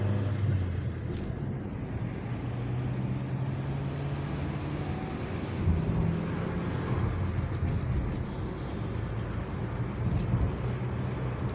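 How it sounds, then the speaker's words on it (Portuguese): Light city-road traffic in Viana do Castelo during a quiet quarantine period, with a few cars passing at a steady moderate distance as a continuous roadway rumble with gentle swells and no voices. "Só alguns carros passando."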